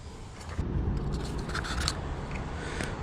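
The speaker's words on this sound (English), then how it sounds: "I'm also going to grab the cutoff wheel and cut these lumps where they were welded before." Cutoff wheel grinding through old welded lumps on a sheet metal floor in a Winnebago repair, a steady, close, harsh whine lasting the whole three seconds.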